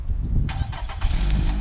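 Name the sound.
2017 Nissan Rogue SL engine starting by remote start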